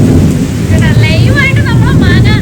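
Loud, dense rain hammers down at night with thunder rumbling beneath it, and a few faint high chirps rise over the steady roar.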